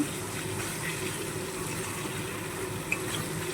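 Water from a rinsed fish bowl pours into a pan of shorshe ilish (hilsa with mustard, poppy seed paste and green chilies), a steady, continuous gushing splash that stays even throughout with no talking.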